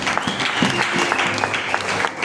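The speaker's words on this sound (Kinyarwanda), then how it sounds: "Mukomere ijambo ry'Imana amashyi" Applause from a church congregation, a steady wash of many hands clapping together, continuous and fairly loud throughout, with no voices standing out above it.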